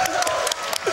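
Brief burst of audience applause and cheering at a live speedrun charity event, scattered claps mixed with crowd noise and voices, fairly loud and close for about a second.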